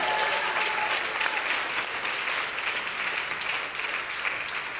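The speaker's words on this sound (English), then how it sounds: "Now clap your hands and give him praise." Church congregation clapping hands in praise during a service, sustained dense applause that stays strong and even throughout, fading slightly near the end.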